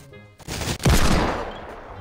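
Gunfire in a battle royale video game: a quiet lead-in gives way to a loud, sustained burst of shots near the one-second mark that carries on densely to the end.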